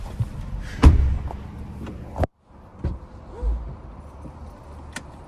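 Car doors open and shut several times in a parked car, with sharp slams and thuds standing out clearly over a quiet interior background.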